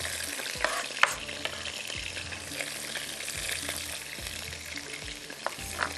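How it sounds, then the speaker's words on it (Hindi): Onions hit a pan of frying garam masala and sizzle steadily while a spoon stirs them, giving a continuous hiss with scattered scrapes and clinks from the utensil, with no one talking. "थोड़ा सा गरम मसाला फ्राई हो गया तो आपने प्याज डाल देनी है"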